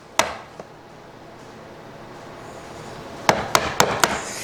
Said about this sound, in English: And just tap down until you meet the cut you made from the other side.